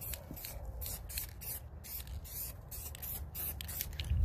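An aerosol can sprays a light clear coat onto rail spikes in a series of short hissing bursts, close and fairly even, with no voices.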